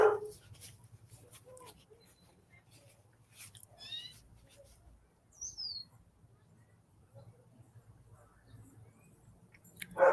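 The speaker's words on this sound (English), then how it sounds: "the dog barks in the background" A dog somewhere in the background gives a few faint, scattered barks and whimpers in a quiet room, with low hum underneath and a louder burst at each end.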